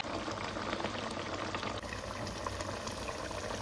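Prawn malai curry in coconut milk simmers steadily in a pot, a dense, continuous bubbling hiss at moderate level with no break or voices over it.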